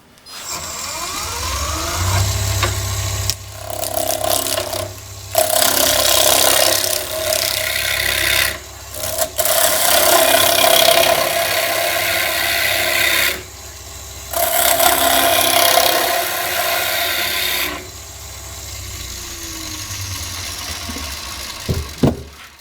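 A wood lathe spins at around 2,500 RPM while a chisel cuts a wooden angel ornament, loud close scraping and rasping in several long bursts broken by short pauses, over a steady motor hum.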